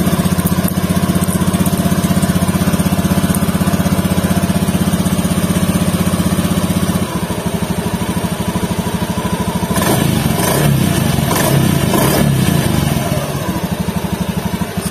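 A Honda Beat Fi V2 scooter engine, just after magneto and stator cleaning, runs loudly and continuously up close, idling with a rapid, even putter that shifts slightly in pitch partway through.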